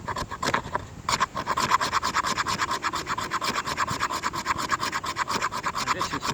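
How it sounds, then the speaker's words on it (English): A knife blade scrapes shavings off a piece of premium fatwood in steady, rapid strokes, producing close, dry rasping that repeats in an even rhythm with no voices. "This is a perfect knife for it, to get the shavings off."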